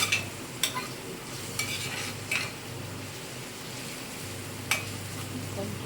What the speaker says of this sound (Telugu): ఈ మొత్తం గట్టిగా ఫ్రై అయిపోతుంది